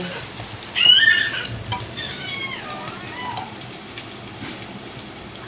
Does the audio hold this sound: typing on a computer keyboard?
no